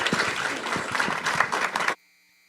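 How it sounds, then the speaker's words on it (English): Audience applause at a city council meeting, a short burst of brisk clapping from a seated crowd that cuts off abruptly after about two seconds. "Round of applause for them, please."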